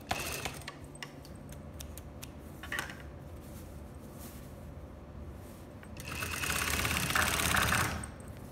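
A sewing machine stitches the side seam of a lined dress in short, start-stop bursts, then runs in one longer, louder stretch near the end. The machine is heard close up and alone.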